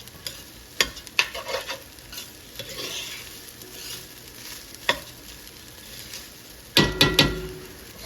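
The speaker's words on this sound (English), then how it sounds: "we'll wait for a couple of minutes until the rice is nice and like fried off in the oil" Rice frying in oil for a Kashmiri mutton yakhni pulao, a steady close sizzle broken by sharp scraping stirs and a clattering burst of spoon against pot near the end.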